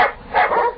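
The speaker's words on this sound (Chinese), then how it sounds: "听到外边嘅山坡传嚟一阵阵獒犬嘅狂吠。" Tibetan mastiffs barking wildly on a hillside outside, an audio drama sound effect; a short burst of two or three loud, close barks with no talk.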